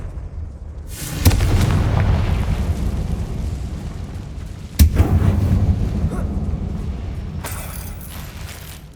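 Two heavy blasts from the Confringo fire spell in the video game Hogwarts Legacy, each a sharp crack followed by a long rumbling roar, several seconds apart and loud.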